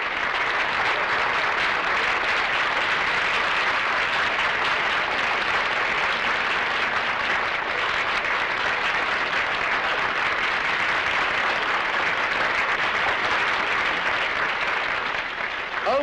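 A large audience applauds pageant finalists at the 1967 Nationals, a dense, steady wash of clapping that holds loud and even throughout.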